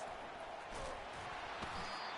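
Stadium crowd noise from a college football game, Texas Tech at Texas, with a steady broadband roar of fans that swells slightly in spots while play continues.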